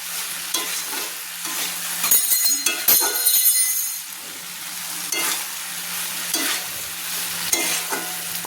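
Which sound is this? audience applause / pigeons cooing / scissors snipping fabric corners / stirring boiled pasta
stirring boiled pasta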